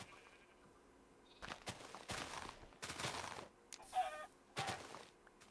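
Chickens cluck in the Minecraft video game in short, quiet bursts, several clucks spaced unevenly over a few seconds. Faint game noise sits between them.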